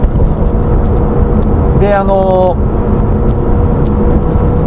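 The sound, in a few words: Ferrari engine and exhaust while driving on highway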